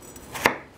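One sharp knife chop through a potato being diced on a cutting board, a single crisp close thud and tap in near silence.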